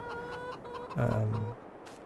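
Hens in a free-range coop in Farming Simulator 22 give a short, loud burst of clucking midway, with soft talk faintly underneath.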